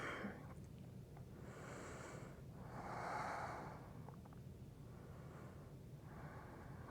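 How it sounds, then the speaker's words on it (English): Slow, audible breaths during a resting yoga pose on a mat, several soft airy inhales and exhales at close range in a quiet room, one fuller breath in the middle, with no talking. "Take a couple breaths here."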